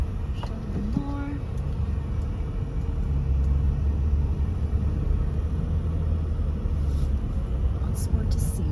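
Car driving slowly through the hurricane-damaged streets of Port Royal, Naples, Florida, a steady low road rumble and engine drone heard from inside the cabin throughout, with faint brief voice sounds early on.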